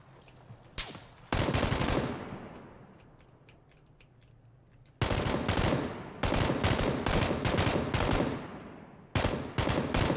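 Automatic gunfire rips through a PUBG match in several loud sustained bursts, one trailing off into echo, separated by quieter gaps with faint clicks.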